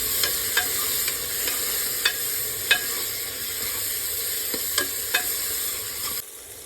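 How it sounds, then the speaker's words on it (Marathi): Tomatoes sautéing in a pan for veg pulao, with a steady close sizzle and frying hiss and several sharp clicks of a utensil stirring against the pan, no talking. "आता मी टोमॅटो टाकत आहे। टोमॅटो मऊ होईपर्यंत परतून घ्यायचं आहे।"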